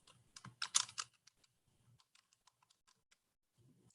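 A burst of quick keystrokes on a computer keyboard while entering a word into an Excel spreadsheet, starting dense and fast, then thinning into sparse, scattered taps before a few final soft clicks; quiet and close, no talking.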